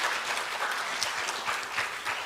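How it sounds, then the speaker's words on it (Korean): Audience applause welcoming a speaker at an education forum, a dense steady patter of many hands clapping at moderate distance, continuous and even throughout. "힘찬 박수로 환영해 주시면 고맙겠습니다."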